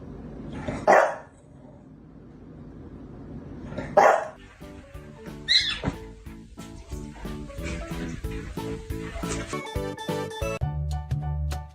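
A pet dog indoors barks loudly three times at spaced intervals, followed by a busy stretch of clattering household noise and shorter yips.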